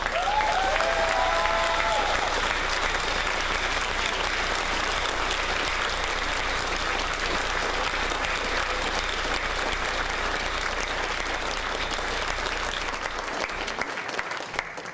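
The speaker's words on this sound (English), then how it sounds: "So, I really do want to thank our staff and volunteers, so please give them a round of applause." Convention crowd at a furry convention's closing ceremony in a Toronto hotel gives a long, dense round of applause for staff and volunteers, steady and full before tapering off at the very end.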